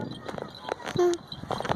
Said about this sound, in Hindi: घोड़ा चल रहा है।